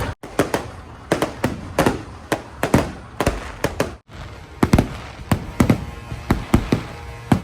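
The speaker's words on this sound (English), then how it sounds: "we headed back to the show for the fireworks that happen on the Saturday night" Fireworks burst in a rapid, irregular barrage of loud cracks and booms on a Saturday night at the Truckshow Ciney truck show in Belgium, dense and close with a continuous crowd-and-engine rumble underneath.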